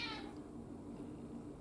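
A house cat gives one short, faint meow right at the start, followed by a quiet, low background hum.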